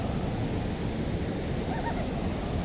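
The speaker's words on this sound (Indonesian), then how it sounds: "Air terjun" A waterfall in a nature park pours steadily, a broad unbroken rush of water with wind-like hiss, moderately loud and constant with no talk over it.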